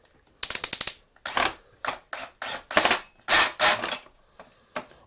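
Screws are backed out of a Panasonic MC-E465 bagged upright vacuum cleaner, a close series of sharp ratcheting clicks and buzzy bursts from a driver tool, coming in about a dozen short runs with brief gaps between.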